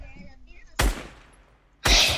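Gunfire in the Fortnite video game: two loud, sharp shots about a second apart, each ringing out briefly before fading, with faint game background sound between them.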